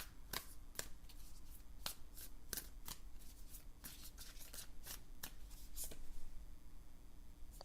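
Tarot cards are shuffled and flicked close up, a quick run of sharp papery snaps and riffles at an uneven rhythm over quiet room tone.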